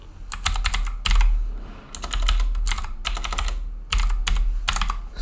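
Rapid bursts of computer keyboard typing while entering HTML code to link a CSS stylesheet, close and fairly loud, in several clustered runs with brief pauses, no talking.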